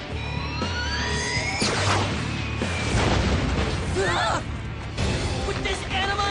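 In a cartoon, Toadhound fires a free shell shot, a burst of whooshing, zapping sweeps and crashing booms loud over an excited voice, followed by a rumbling blast.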